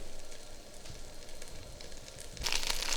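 Butter melts in a pan on a hob set to 9 with a soft, steady sizzle and faint crackle, swelling into a louder, brighter frying hiss near the end.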